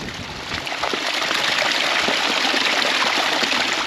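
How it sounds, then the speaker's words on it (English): A small creek along the Old Vantage Highway, with ice along its banks, flowing in a steady close babble and rush that swells slightly after the first half second, with no voices. "There's a little creek"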